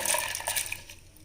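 Water is poured into a mixer-grinder jar of soaked urad dal for idli batter, a brief, close splash and trickle that quickly tapers off.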